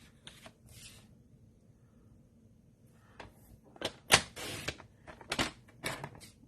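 Designer series paper is cut to size for card making, probably on a paper trimmer: a few soft slides early on, then a cluster of sharp, close cutting strokes and clicks near the end.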